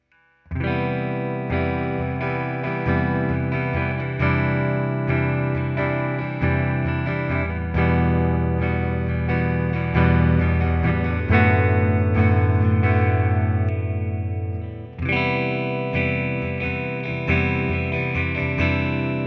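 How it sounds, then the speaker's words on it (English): A Jazzmaster electric guitar with CuNiFe wide-range humbuckers plays through a mic'd Fender Tone Master Twin Reverb amp. It sounds loud and driven, with strummed chords and ringing notes, heavy effects and distortion, and no talking. "I recorded using my Fender Tone Master Twin Reverb mic'd up with a Sennheiser E906 going into a Volt 276 interface."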